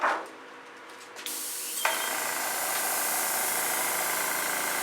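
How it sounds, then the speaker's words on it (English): An airbrush hisses close up as it sprays fluid acrylic paint, starting with a short burst, then opening into a steady, continuous airy spray that holds to the end. "Get the airbrush out and have some fun."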